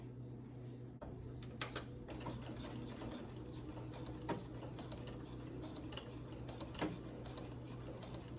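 A home sewing machine runs steadily on fabric for a hood, a quiet continuous mechanical hum with faint ticking, close by and without speech.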